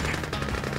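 Rapid automatic gunfire from units in the real-time strategy game Red Alert 2, a loud, tightly pulsing burst lasting under a second.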